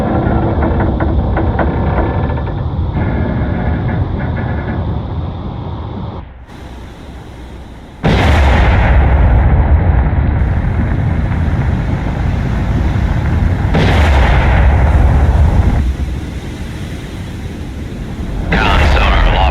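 VLS missile launches from a submarine in the naval video game Cold Waters: loud roaring bursts of rushing, blasting noise that sustain for several seconds each, following a rumbling hum, with voice reports heard in the mix.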